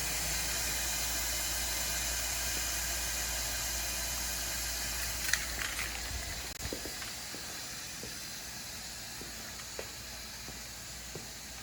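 Airbag Man air suspension on a Toyota Land Cruiser LC200 letting out about 94 psi of air, a steady broad hiss of escaping pressure filling the whole stretch, with a few faint mechanical clicks toward the end.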